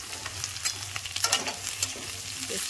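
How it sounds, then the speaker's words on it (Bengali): Eggplant and potatoes frying in oil in a pan while being stirred lightly, a steady sizzle broken by scraping, clattering stirs from close by, with no voices. "এবার আমি বেগুনগুলোকেও হালকা করে নেড়ে নিয়ে তবে আমি কপিটাকে দেবো"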